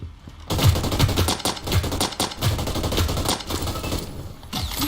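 Assault rifle fire in the video game Hyper Scape, rapid bursts of automatic shots rattling almost continuously and loud, with brief gaps between strings of rounds.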